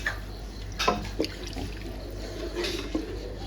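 Water poured from a cup into a pot of rice for Karnataka-style tomato bath, a close, soft splashing and trickling with a few brief surges, no voices.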